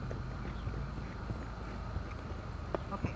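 A gaited mare, ridden in a dressage shoulder-out at a walk, clip-clops with soft hoofbeats in a steady rhythm over a low, even background hum.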